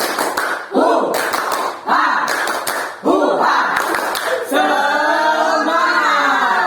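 A counselling group repeats the 'tepuk semangat' rhythmic clap, several sharp clusters of hand claps in a set pattern, ending with the group chanting in unison.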